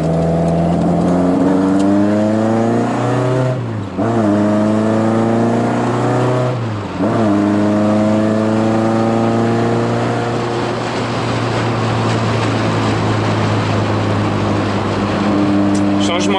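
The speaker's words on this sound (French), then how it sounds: "on fait tourner un peu la voiture parce que ça fait très longtemps" A classic car engine, started after sitting unused for a long time, idles loud and close with steady harmonic drone, rising in pitch through several revs and dipping briefly twice before settling into a rough, sustained run.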